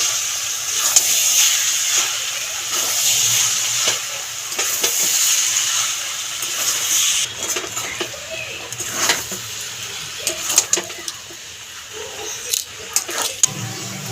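Sago pulao with vegetables stirred in a pan, a soft steady sizzle and hiss with scraping stirring strokes and occasional clinks of the spatula, close up, with no talking.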